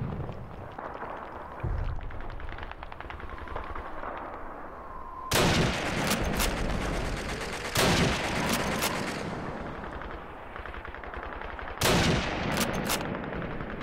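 Gunfire in the World War II shooter Call of Duty 2, with rifle and machine-gun bursts crackling over a battle din and three loud broadband shots punching through at intervals.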